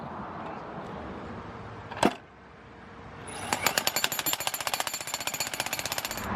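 A jackhammer chips out rock in a trench, starting with a single sharp knock, then after a short lull breaking into a loud, rapid, steady hammering that runs to the end.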